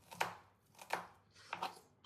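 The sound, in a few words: knife finely chopping onions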